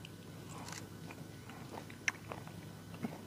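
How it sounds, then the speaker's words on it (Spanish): Someone chews raw oysters and clams at the shoreline of a beach, with faint crunching and biting sounds up close over a soft steady background. "Yo mastico todo. Ostiones, almejitas, todo lo mastico."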